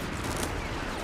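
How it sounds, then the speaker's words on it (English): Dense volleys of rifle fire crackle steadily through a Company of Heroes 3 battle, a continuous wash of overlapping shots with no clear gaps and little voice on top. "Aim your rifle and fire!"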